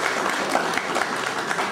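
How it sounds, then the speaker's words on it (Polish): A crowd applauds steadily at an evening event in a coin and medal museum in Częstochowa, with dense, even clapping from many hands throughout. "Pawełku, myślę, że gorące brawa dla Pawła."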